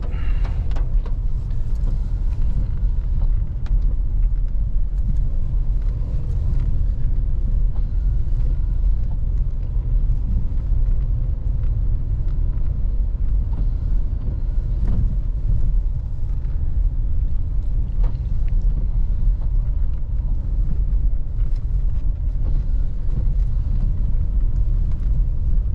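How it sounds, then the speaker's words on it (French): A Dacia Duster 3 with the 1.2-litre 130 hp engine and 4x4 creeps downhill on a dirt track in first gear under engine braking, giving a steady low engine drone and road rumble with occasional knocks from the rough ground. "Donc là en descente je suis en première, hein, je me laisse y aller au frein moteur."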